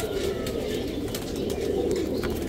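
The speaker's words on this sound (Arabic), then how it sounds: "انواع الحمام" Pigeons coo softly at a bird market, low murmuring calls blending with a dense background of crowd bustle and scattered clicks.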